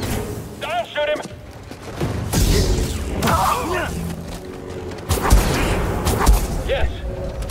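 Sharp blaster shots and impacts from the Star Wars Jedi Fallen Order video game, heard amid loud combat noise with voices shouting over the action.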